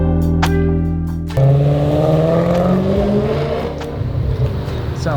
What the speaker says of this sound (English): Sounds good. BMW V8.